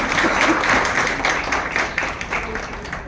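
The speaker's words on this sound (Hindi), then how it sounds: "अगर आप इसे एक्सेप्ट करते हैं तो एक बार जोरदार तालियां होनी चाहिए।" Loud, continuous applause from an audience at an International Women's Day celebration at a hospital, a dense burst of clapping lasting a few seconds, with no speech over it.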